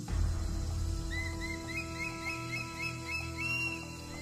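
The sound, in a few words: Javan hawk-eagle calling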